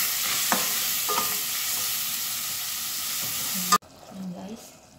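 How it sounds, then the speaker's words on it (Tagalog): Shrimp curry stirred in a pot, a spoon scraping and knocking against the sides over a constant hiss of cooking, then a sudden drop to quieter scraping. "At ito lang pong haluin."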